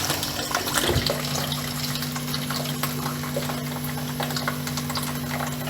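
Hot water flows from a tap opened after replacing a water heater's flexible hose, a steady, fairly loud rushing stream with a constant mechanical hum underneath and some sputtering from air in the line.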